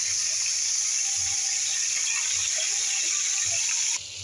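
Water is poured into a pan of chicken and potatoes coated in an onion, tomato, black pepper and salt mixture, a steady close gush running about four seconds before stopping abruptly.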